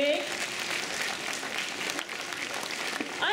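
An audience claps together in a steady wash of applause throughout, with a voice speaking faintly over it.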